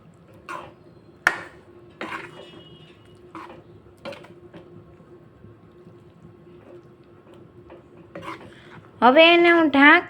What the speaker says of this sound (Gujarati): હવે આપણે બધું જ વસ્તુને મિક્સ કરી લઈશું